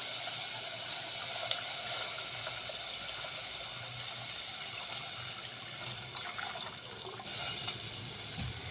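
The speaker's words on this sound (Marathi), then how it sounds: "ज्या पद्धतीचं लागते त्या पद्धतीचं आपण पाणी टाकायचं फॅमिलीनुसार।" Water pours into a cooking pot for a sev bhaji curry, a steady close rushing splash that runs continuously, with slight surges in the fill and no talking over it.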